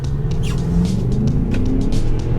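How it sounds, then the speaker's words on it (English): A car fitted with Autosock fabric snow socks drives up a snowy hill, giving a steady low engine rumble with a faint scraping texture, heard continuously from close by inside the car with no talk. "Let's see how the Autosock does coming up the hill."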